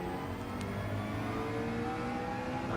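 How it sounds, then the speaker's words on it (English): A McLaren race car in Gran Turismo 7 powers out of a corner in second gear, its engine droning steadily with a layered whir under a constant, moderately loud level and no speech. "And then second gear in the McLaren to power out."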